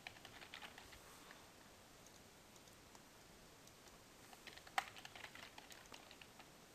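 Soft, quick keystrokes on a computer keyboard fill in profile fields, a steady patter of light clicks with one sharper tap near the end, quiet and close.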